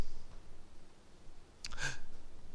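A single short sneeze bursts out close by after a brief intake of breath, loud against an otherwise quiet room.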